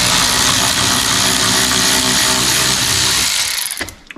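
A power driver with a T25 Torx bit whirs steadily and loudly, close up, as it backs out bolts holding a Land Rover Discovery side mirror, then winds down and stops.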